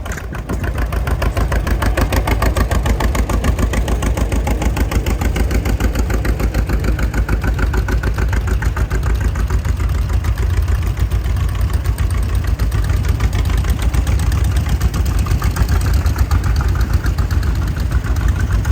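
An antique tractor engine idles steadily at a Georgia fall festival tractor show, a loud, close, continuous low chugging with an even rapid pulse that holds unchanged for the whole stretch.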